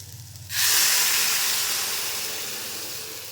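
Water poured into a pan of frying carrots and peas sets off a sudden loud sizzling hiss that swells and slowly fades, with quiet kitchen sounds beforehand.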